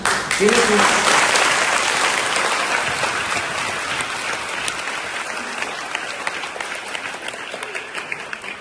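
Sustained applause from an audience at a public gathering, after an MPDO official announces he will adopt orphaned students; dense clapping fills the whole stretch, loud at first and easing slightly toward the end.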